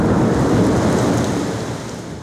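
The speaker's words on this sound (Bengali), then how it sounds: "বজ্রপাত সহ এই বৃষ্টি হয়েছে মাত্র ১০ মিলিমিটার" Heavy rain falls during a thunderstorm at night in a city after a hot spell, a dense roaring wash with a deep rumble underneath that slowly fades over a couple of seconds, with no voices.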